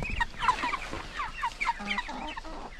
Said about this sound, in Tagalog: Basa ang mga manok.